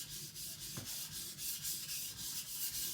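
Custom Chinese cleaver glided lightly across a whetstone, a soft rhythmic rasping of steel on stone repeating in even strokes, close and quiet with no talk.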